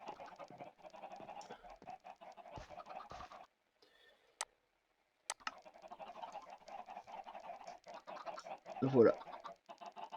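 Chickens cluck in a French hardcore Minecraft-style survival game, with soft, steady clucking through most of the clip, a short quiet gap, and a brief spoken word near the end.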